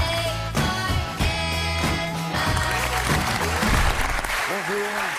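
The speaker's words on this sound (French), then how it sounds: "je vous demande de l'applaudir" Studio audience applause on a French TV talk show greeting an Olympic gymnast, steady and sustained, with a voice speaking over the clapping throughout.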